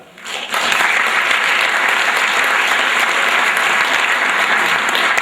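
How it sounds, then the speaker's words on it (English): An audience claps for a sports team at a spring sports awards night, with applause swelling in after a quiet start and holding steady as a dense, continuous roar of hands. "And they deserve a big round of applause for that."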